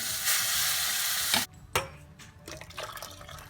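Food frying in a pan on a kitchen stove, a loud steady sizzle that cuts off and gives way to scraping stirring strokes and quieter bubbling.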